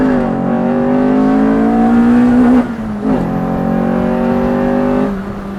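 A B17-swapped Honda EF rises loudly in pitch while driving, climbs into VTEC, then drops at a shift and builds again. The engine sound is close and dominant, with no voices.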